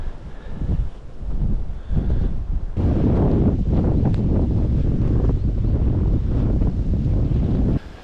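Wind gusts roar across a snowy ridge in the Malé Karpaty hills, a loud, steady buffeting rush on the microphone that swells after the first few seconds and holds, with no voices.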